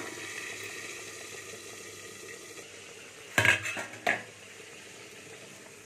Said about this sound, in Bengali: তেল গরম হয়ে গেছে, বেগুনগুলো একটা একটা করে দিয়ে দিচ্ছি